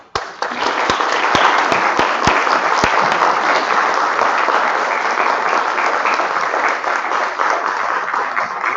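Audience at a literary festival applauding readers, a dense, loud burst of clapping that swells quickly and holds steady throughout, with a few sharp claps standing out at the start.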